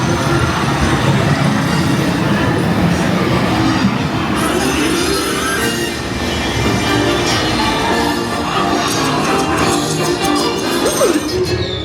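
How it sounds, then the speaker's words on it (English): A steady, loud rumble of a passing train at Disney World fills the whole stretch, with rattling wheels and occasional metallic squeals. "Want to take a ride on the train?"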